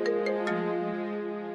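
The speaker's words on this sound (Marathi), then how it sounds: "आदित्यचा फोन" A mobile phone ringtone plays, a short melodic electronic ring of a few tones sounding clearly with no talk.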